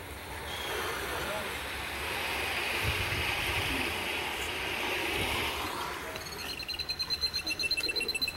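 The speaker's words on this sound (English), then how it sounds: "That sound like birds" Birdsong from a played recording of nature sounds, a steady broad wash of calls and background noise giving way near the end to a rapid pulsing chirp pattern, heard alone without talk.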